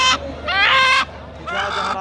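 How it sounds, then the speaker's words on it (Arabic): A Harati broody hen clucks at a busy animal market, giving three loud, close, harmonic clucking calls in an uneven rhythm with no talk over them. "دجاجة هراتية كاركة هي وبيضاتها"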